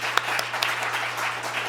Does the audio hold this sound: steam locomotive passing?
no